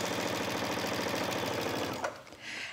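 A sewing machine runs a straight stitch seam about an eighth of an inch from an earlier seam line, a steady rapid whir and pulse for two seconds, then stops, leaving a brief softer hiss.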